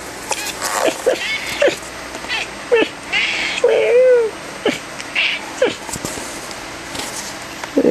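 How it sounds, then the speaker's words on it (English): A cat meows a few times indoors, one clear rising-falling call standing out mid-clip, with soft background noise and brief sounds around it. "Hey, that's my old kitty."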